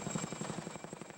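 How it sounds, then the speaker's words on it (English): A U.S. Army helicopter airlifting an encased dinosaur skeleton out of a ravine, heard as a steady rhythmic rotor thump with a constant high whine, fairly close and continuous. "A U.S. Army helicopter was sent in to airlift the remains out of the ravine."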